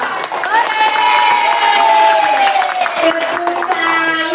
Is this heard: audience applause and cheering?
yes